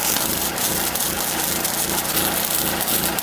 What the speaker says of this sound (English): Here I am cutting pieces of the bushing stock that I have.